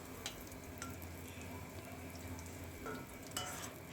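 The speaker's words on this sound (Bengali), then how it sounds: "পেঁয়াজ ভাজা আমার প্রায় হয়ে গেছে" Onions sizzle steadily in oil in a pan, a continuous soft frying hiss with a few brief clinks and scrapes from stirring, moderately quiet and with no talking.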